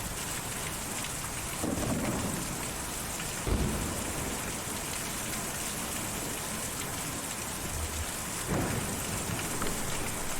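In the video game Kentucky Route Zero, heavy rain pours in a dense, constant hiss while thunder rolls in several low, swelling rumbles, with no talking.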